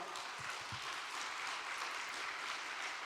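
An audience at a Korean religious training session gives a sustained wash of applause, faint and steady with no talk over it.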